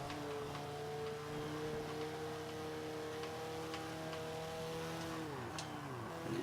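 Rally-engined Mitsubishi Lancer Evolution VIII in the racing game Forza 5, a steady droning engine tone held at high revs that drops as the gear shifts near the end, with faint ticks and tyre noise.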